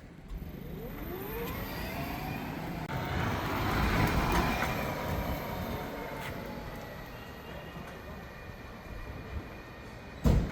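Volta EV1 small electric vehicle running on a gel battery climbs a slope outdoors, its motor whine rising and falling in pitch as it strains uphill, heard from nearby and then fading somewhat.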